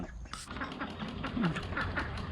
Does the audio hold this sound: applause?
no